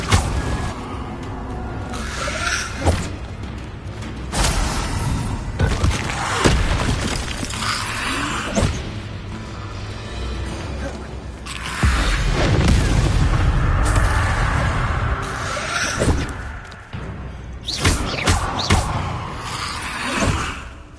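Incendio fire spells are cast again and again during a fight in Hogwarts Legacy. Loud whooshing bursts and heavy booms come at irregular intervals over a busy, rumbling battle.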